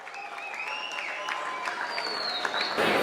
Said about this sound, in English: Give a big round of applause, please.